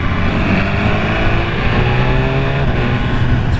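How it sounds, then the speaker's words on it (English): A car engine with a stock exhaust drones steadily up close, a continuous low rumble with a slight rising pitch as it accelerates. "Terrible stock exhaust on this"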